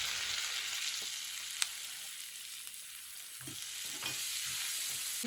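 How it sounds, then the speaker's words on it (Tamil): Chopped onion frying in a pan of butter and garlic, a continuous low sizzle with a few sharp stirring clicks and scrapes, close by and without speech. "இந்த ஸ்டேஜில் ஒரு வெங்காயம் கட் பண்ணி வச்சுருக்கேன், அதை போட்டுருங்க."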